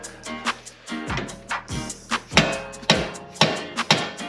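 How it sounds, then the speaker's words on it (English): Soft blow hammer striking the wheel hub of a 2017 Jeep Wrangler JKU during a wheel bearing change, close and loud, about eight sharp dull blows at a slightly uneven, steady pace with short ringing decays. "Curtis was just hitting the hub with a soft blow hammer"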